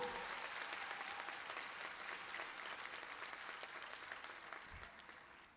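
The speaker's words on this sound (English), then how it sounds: "I want us to give a round of applause to all of our parents that made sure we are here today" Graduation audience applause for parents, a broad, even roar of many people clapping in a large hall, slowly easing in the final seconds.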